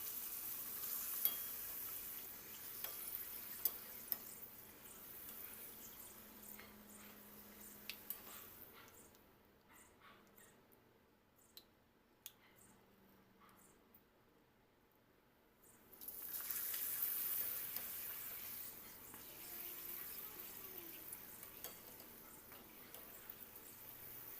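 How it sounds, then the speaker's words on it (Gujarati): Papad frying in hot oil: a low, continuous frying sizzle runs throughout, dropping to near quiet midway with a few faint ticks, then returning louder toward the end. "તો આ પહેલાં આપણે પાપડને આમાં તળી લઈએ"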